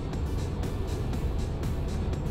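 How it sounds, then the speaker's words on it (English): A car engine roars steadily and loudly with a deep, rumbling low end, heard close and continuous throughout with faint rhythmic pulses, consistent with hard acceleration. "And this car goes 0 to 60 lower 5 seconds."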